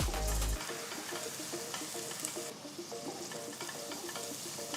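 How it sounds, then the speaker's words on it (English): Finely chopped onions hit hot ghee with cinnamon, cloves, cardamom, star anise and bay leaf: a short thud, then a bright, continuous close-up sizzle with occasional pops and stirring. "Next, add 3 medium-sized onions finely chopped."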